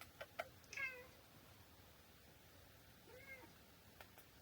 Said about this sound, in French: Ça va mon chat?